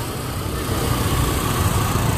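Dense motorbike traffic on a crowded market street in Dien Bien Phu, Vietnam: a steady, continuous drone of small engines idling and buzzing nearby, with no talking.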